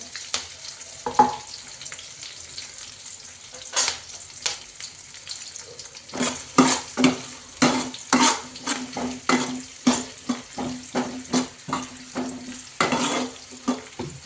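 Green chillies, onions and curry leaves fry in oil for street-style batani chaat, with a steady sizzle broken by repeated clattering scrapes of a spoon stirring the pan, close and fairly loud.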